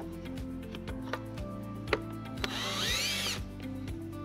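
A power tool runs off 10mm nuts on a 2019-2025 Subaru Ascent bumper during a trailer hitch install, a steady close whirring hum with ticking clicks and a brief higher ratcheting whine near the end.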